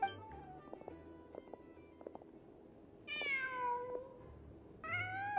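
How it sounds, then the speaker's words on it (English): A cat meows twice in the video game Genshin Impact, clear drawn-out calls standing out over a quiet backdrop with faint soft clicks beforehand. "Just a cat."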